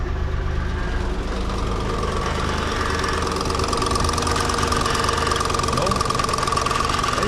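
A running car engine idles loudly and steadily, with a fast, regular mechanical ticking woven into its drone, on a Nissan 300ZX convertible with a cam gear fault.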